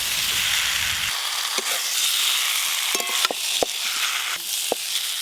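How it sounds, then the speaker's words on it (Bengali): Broccoli, potatoes and eggs fry in a pan with spices, giving a loud, steady sizzle close by, broken by a few sharp clicks and scrapes as the ingredients are stirred; nobody talks. "এই অবস্থায় ভেজে রাখা ব্রকলি, আলু আর ডিমও দিয়ে দেবো একসঙ্গে।"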